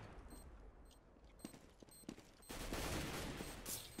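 Gunfire in the video game CS:GO on the Mirage map, a quiet scatter of distant shots followed by a louder, sustained burst of rapid fire.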